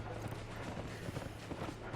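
Faint hooves clip-clop in a steady walking rhythm as a horse moves along in the video game Escapists 2, quiet under a low background hum.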